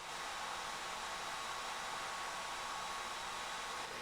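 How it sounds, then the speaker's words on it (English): Fans of an ASUS Zephyrus G16 gaming laptop roar in a steady, loud rush of air with a faint high-pitched whine running through it, unbroken and close, with no talking. "It's not coil whine, it's just the turbulence of the fans."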